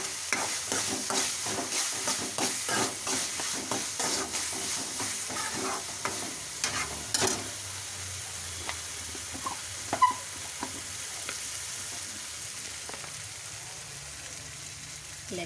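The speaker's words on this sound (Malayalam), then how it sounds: "നമ്മളുടെ കൂണ് കറിക്കുള്ള ഉള്ളിയും തക്കാളിയും വഴന്നുകൊണ്ടിരിക്കുകയാണ്" Onions and tomatoes fry in a pan for a mushroom curry. Rhythmic scraping stir strokes sound over a steady close sizzle, then the stirring stops and the frying hisses on alone with a few soft clinks.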